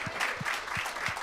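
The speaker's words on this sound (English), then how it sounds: "Let's give Stacy a round of applause for being up here on week 3" An audience at a panel session of an urban mobility conference in Miami claps for a speaker, steady dense applause filling the room, with a few louder rhythmic claps standing out close by.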